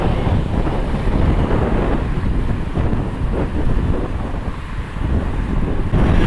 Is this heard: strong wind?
yes